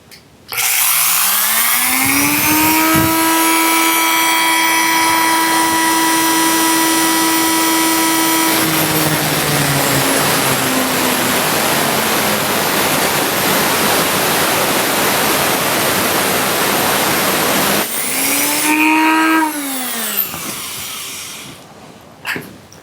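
Power tool cutting through an airgun spring clamped in a vise, taking off about one and a half coils: a loud, steady whining grind that rises at the start, holds for many seconds, then winds down near the end.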